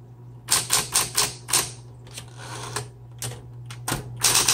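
Typebars strike on a 1960s Smith Corona Coronet Electric 12 typewriter, with the tab key pressed among them. Sharp close clacks come in a quick run, then scattered single strikes over the machine's low steady electric hum.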